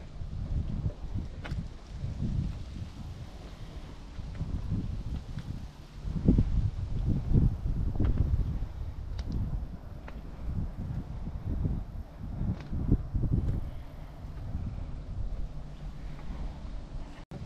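Breezy wind buffeting the microphone on a meadow hilltop at Quarry Park and Nature Preserve near Saint Cloud, Minnesota, a low steady rumble with gusty swells and faint rustling throughout.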